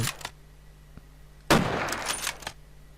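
Gunfire on a Minecraft server running an Arma 3-style mod. A faint shot comes first, then a louder, sharper burst of rapid fire trails off over about a second.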